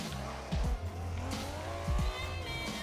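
Race car in Forza Motorsport 7 with a manual clutch accelerating hard, engine revving loudly in rising sweeps, with two quick sharp gear-shift drops and faint tire squeal, no talking.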